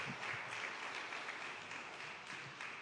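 A church congregation claps in a steady, faint patter of applause for a few seconds, heard alone without talk.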